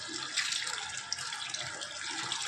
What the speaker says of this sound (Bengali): কৈশাকের ফলটা এখন ধুয়ে নিচ্ছি ভালো করে পরিষ্কার করে ধুয়ে নিচ্ছি